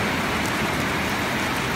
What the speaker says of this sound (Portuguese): mostrando para os senhores essa chuvinha maravilhosa